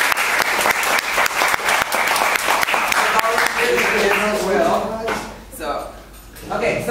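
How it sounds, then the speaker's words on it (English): An audience breaks into a round of loud, sustained applause, dense clapping filling the room for several seconds before thinning and fading out near the end. "I think we should give Christoph a round of applause"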